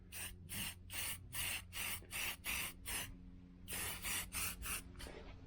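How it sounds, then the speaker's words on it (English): Close aerosol spray can hissing in about a dozen short, rhythmic bursts, a brief pause partway through, applying guide coat to a hail-damaged roof repair on a 1978 El Camino SS. "we're going to spray a little guide coat"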